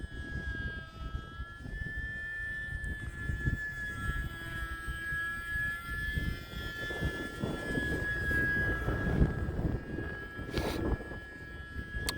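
An E-flite UMX Pitts S-1S small electric RC biplane flies overhead on a 3S battery, giving a steady high-pitched motor whine that rises and falls slightly as throttle changes, with a constant background hiss.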